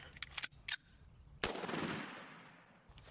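Several sharp .44 Magnum gunshots crack at an indoor shooting range, a quick cluster of close, loud reports followed by one heavy blast whose echo rings and slowly decays.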